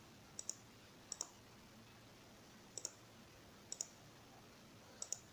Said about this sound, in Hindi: ये क्लिक हो रहा है।